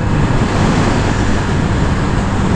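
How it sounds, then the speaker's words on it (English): Steady, loud roaring wind buffeting the microphone while riding a Kawasaki Z900RS motorcycle, a broad continuous rush with no breaks. "You do cop a lot of wind on this bike"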